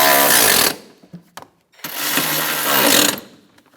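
A power tool whirs in two loud bursts while bolts on a 2007-2017 Ford Expedition's power steering reservoir hose are snugged down, with a short pause and a few clanks between the runs.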